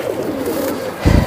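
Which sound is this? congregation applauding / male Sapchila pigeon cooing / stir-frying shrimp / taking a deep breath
male Sapchila pigeon cooing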